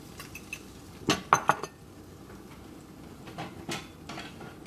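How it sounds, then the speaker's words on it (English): A spoon scrapes and clinks against a skillet while flour is stirred into oil and butter for a creamy white wine sauce, a few sharp metallic taps followed by softer intermittent scraping. "And you just want to stir it in."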